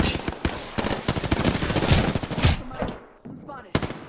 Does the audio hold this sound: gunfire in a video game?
yes